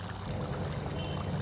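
Yogurt is poured into a simmering chicken masala curry on low heat, giving a brief, steady, soft pouring wash with no talk.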